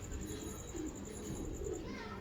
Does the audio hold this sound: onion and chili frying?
no